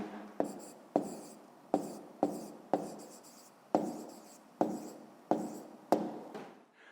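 A pen writing out a math answer on paper: about ten short, crisp strokes at a steady, even rhythm, quiet and close with nothing else around them.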